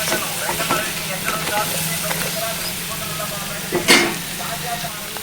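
Crab curry frying in a pan just after chili powder goes in, a steady close sizzle with stirring clatter and a sharp hissing burst near the end.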